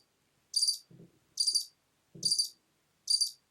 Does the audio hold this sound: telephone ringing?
no